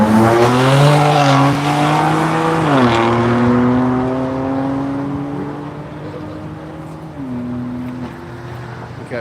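A Porsche race car, number 59, roars past on the VIR track, a loud close engine note whose pitch rises and drops with shifts and then fades slowly into the distance.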